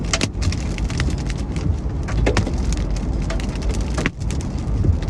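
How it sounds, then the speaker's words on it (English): Hailstones and heavy rain drum on a car during a thunderstorm, a dense, continuous patter with sharper clattering impacts throughout, loud and close. "You bit of thunder. Right. First hailstones."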